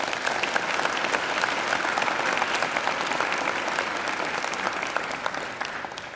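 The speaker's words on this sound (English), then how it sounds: "And I think they deserve a round of applause too." A graduation ceremony audience applauds in a large hall, a dense sustained wash of many clapping hands that fades slightly at the end.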